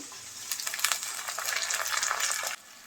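Masoor lentils poured into lightly fried onions and chillies in a hot pan, setting off a loud, close, crackling sizzle that swells for a couple of seconds, then drops away sharply.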